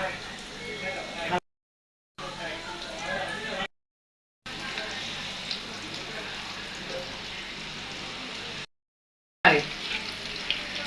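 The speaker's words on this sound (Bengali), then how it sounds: "এই বাদামি কালার করে ভেজে নেব, বেশি কালো করব না" Food fries in oil until brown while sweets are being made, a steady close sizzle with occasional stirring, broken by several short silent gaps.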